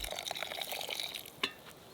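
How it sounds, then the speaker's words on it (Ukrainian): Quiet pouring of water into a pot of rice while cooking outdoors, a soft steady trickle with a brief clink near the end, no voices. "на одну склянку рису додаємо півтори склянки води"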